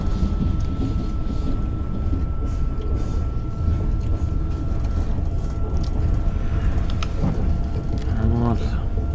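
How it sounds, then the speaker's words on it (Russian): An electric commuter train rumbles steadily past along a seaside railway line near Tuapse, a loud continuous roar with a brief squeal near the end. "Электричка."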